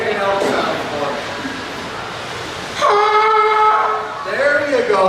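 A man imitates an elk call for a county fair audience: two drawn-out, tonal bugle-like cries, each rising and falling, fill the second half over a busy background of crowd murmur and voices.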